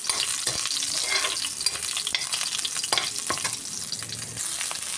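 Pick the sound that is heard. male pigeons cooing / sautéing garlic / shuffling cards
sautéing garlic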